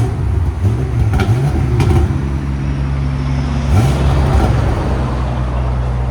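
Tuned 800+ hp 2020 BMW M8 Competition with downpipes and Flowmaster Outlaw exhausts, revving with the valves closed: a steady, subdued low engine drone with a couple of brief rising rev swells, close and continuous.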